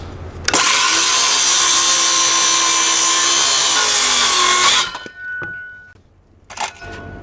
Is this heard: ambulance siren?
no